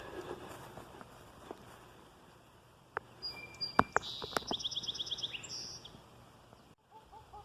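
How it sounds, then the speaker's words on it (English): Faint birdsong and chirps sound in the distance over quiet outdoor ambience on a morning walk along the Pipeline Trail in Sammamish, Washington, with a brief run of rapid, repeated high twittering midway. "The nice thing with a morning walk, hearing the birds."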